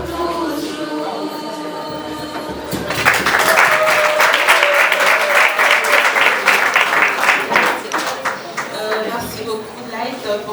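An audience bursts into sustained applause after a sung worship song, clapping swelling in after a quiet moment and then tapering, with a voice speaking over the start and end.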